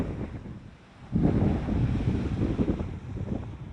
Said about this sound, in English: These waves are pretty big.